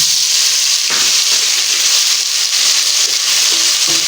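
Garlic ginger paste hisses and sizzles loudly in hot oil over browned onions, a steady close frying roar with brief crackling bursts and no voices.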